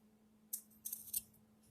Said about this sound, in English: Cutting all the threads.